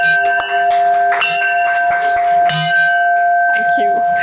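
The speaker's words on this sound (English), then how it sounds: "Please come and ring the success bell." A success bell rung repeatedly by hand at a celebration for a top civil services exam ranker, bright ringing strikes with sustained metallic tones, loud and close, while people talk and cheer around it.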